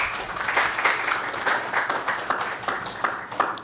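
A panel discussion audience gives another round of applause for a speaker, many hands clapping steadily in rippling waves from a moderately close position, with no talking.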